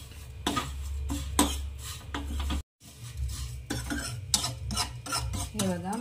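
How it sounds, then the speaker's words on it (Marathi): Vermicelli being dry-roasted in a pan on low gas, with repeated scraping and stirring strokes of a spoon against the pan in an irregular rhythm, close and clear. "खूप असं ब्राऊन कलर येईपर्यंत छान भाजतच राहायचं आहे शेवयाला"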